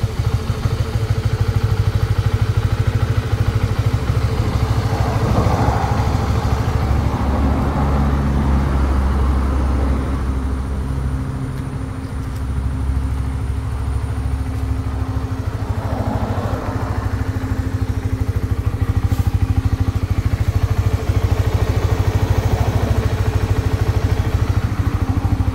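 Close up, a restored Honda RS150 motorcycle idles steadily and loudly for a long stretch, its engine beat even with slight rises in revs, with no talking.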